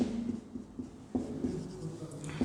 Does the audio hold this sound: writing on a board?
yes